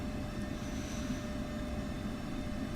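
An F-16C jet rolling out after touchdown in the DCS flight simulator game, a steady, loud engine roar and rumble with no breaks.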